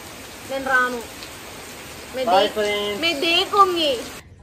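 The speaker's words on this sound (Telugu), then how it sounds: "చూడండి ఫ్రెండ్స్, ఇక ఇంత వర్షం పడుతుందో" Heavy rain pours down at a village film shoot, a constant hiss of downpour beneath bursts of nearby voices talking.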